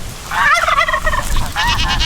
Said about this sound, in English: So here's those turkeys.